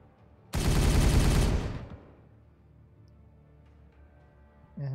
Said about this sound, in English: open fire. Shoot.